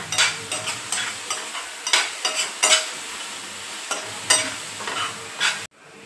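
Chillies and onion sauté in a pan for a Khandeshi-style green moong chutney, a soft sizzle under repeated stirring scrapes, close and fairly quiet, ending abruptly.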